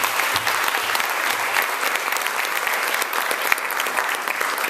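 An audience at a Romanian teachers' association event breaks into loud, sustained applause with crisp, dense clapping throughout and no voices over it.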